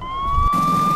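A police siren in a Minecraft game wails steadily at close range, a sustained high electronic tone rising in loudness over a low rumble.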